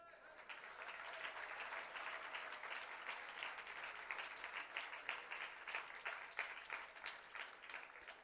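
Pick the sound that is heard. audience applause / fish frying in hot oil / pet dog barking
audience applause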